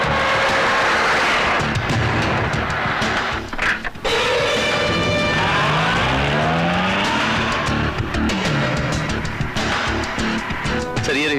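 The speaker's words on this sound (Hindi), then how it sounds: "कॉन्वॉय जल्दी चलाओ" A convoy of cars races at speed in an action film scene, loud revving engines with tire squeals and skidding whooshes as vehicles pass, dense and continuous, with overlapping film score and effects.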